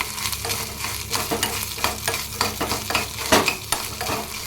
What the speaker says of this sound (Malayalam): അതേ ആ ഒരു എണ്ണയിൽ തന്നെ തേങ്ങയും കൂടെ ഒന്ന് വറുത്തിട്ട് വറവ് കഴിക്കാം